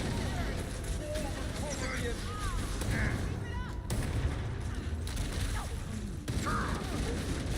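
Gunfire and grenade blasts in the video game Halo: Campaign Evolved, a steady dense clatter of weapons with chirpy sci-fi effects on top, while someone talks over the action.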